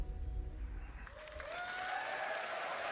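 A short stretch of audience clapping at the Star Citizen CitizenCon event, steady and moderately faint, with a low rumble at first.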